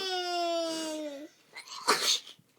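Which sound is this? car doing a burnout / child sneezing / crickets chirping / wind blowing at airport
child sneezing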